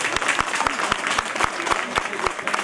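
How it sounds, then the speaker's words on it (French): An audience applauds at the 2017 Bugatti awards ceremony at the Molsheim festival, a moderate round of clapping with a few sharp individual claps standing out, steady and fairly close. "On peut déjà applaudir son représentant d'être encore une fois parmi nous."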